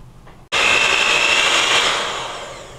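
After a brief quiet moment, an electric mixer switches on and whirs steadily, beating heaping spoonfuls of powdered sugar into an apple cake batter, loud and close, then tapering slightly toward the end.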